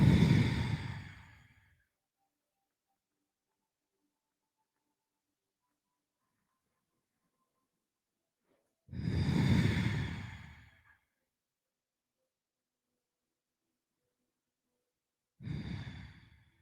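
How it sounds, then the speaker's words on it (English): Deep yogic breathing, heard as three slow, full inhales or sighs, close and clear, separated by long stretches of near silence. "Breathing in, filling the belly."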